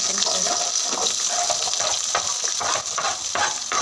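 Onions and green chillies frying in hot oil, a steady loud sizzle with stirring scrapes throughout.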